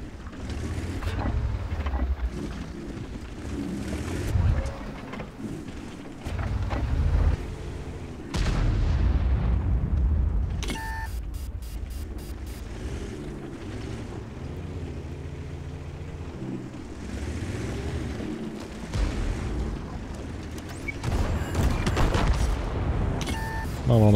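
Tank cannon fire in World of Tanks with a Char Mle 75, several loud booming shots spaced apart over a rumbling engine and wind-like background, with someone talking at times.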